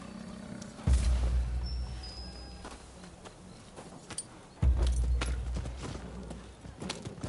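Horse in Rise of the Ronin on PS5, heard as a few sparse hoof clops mixed with two deep booming thuds and scattered game sounds, moderately quiet overall.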